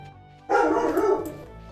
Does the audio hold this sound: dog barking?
yes